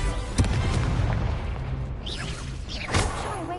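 Incendio fire spell cast in Hogwarts Legacy: loud bursting booms and crackling whooshes in quick succession, with a sharp blast near the start and another near the end over continuous rumbling game noise.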